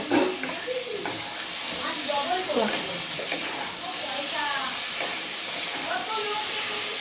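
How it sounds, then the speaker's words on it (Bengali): Fish roe sizzles in hot oil in a pan as it is stirred, a steady hiss with scraping strokes, while someone talks over the cooking. "এবার আমি ওর মধ্যে মাছের ডিমগুলো দিয়ে ভালো করে আবারও নেড়ে চেড়ে নেব।"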